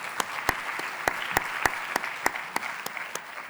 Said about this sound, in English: So please join me for a round of applause for the panelists for the first.